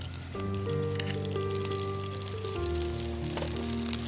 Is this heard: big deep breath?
no